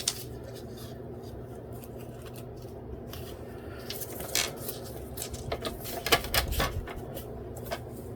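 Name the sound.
cutting with scissors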